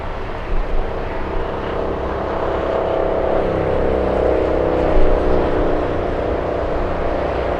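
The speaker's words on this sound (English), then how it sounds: "We love that plane." An airliner passing at Los Angeles International Airport, a loud, steady jet roar that swells gently toward the middle and holds without pause.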